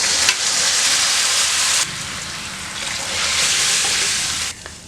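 Water is poured into a hot pan of rava kichadi and bursts into a loud, broad sizzle and hiss that holds steady for several seconds, then drops off abruptly.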